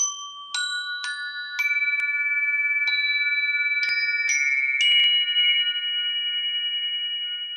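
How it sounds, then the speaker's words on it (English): Tuned chimes struck one after another, playing the Sumerian King's List and Flower of Life patterns: about ten clear, bright metallic strikes that ring on and blend into a sustained, shimmering resonance in a quiet room. "that's the Sumerian King's List chimes and the Flower of Life chimes played in frequency and in resonance"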